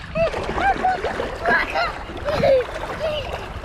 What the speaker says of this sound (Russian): О, волна пришла,